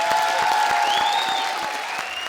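Studio audience of a comedy circus TV show bursts into loud, sustained applause, a dense wash of clapping with a faint musical tone running beneath it.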